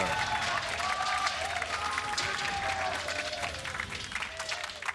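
Crowd in an esports arena at the 2019 League of Legends World Championship play-in match, applauding and cheering in a steady, dense roar that fills the whole stretch, with a commentator's voice faintly over it.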